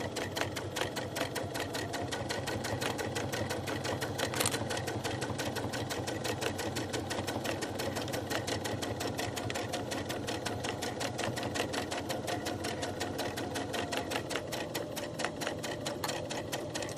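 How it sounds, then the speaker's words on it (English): A sewing machine stitches steadily around a fabric cable wrap, its needle chattering in a fast, even rhythm that runs the whole time, close and constant, without speech. "But just do your best and sew all the way around to the other opening."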